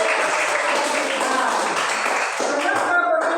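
A classroom of students applauds, a continuous mass of claps at close range with children's voices shouting and chattering through it, fading slightly near the end.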